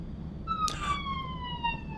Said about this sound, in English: There's a siren outside.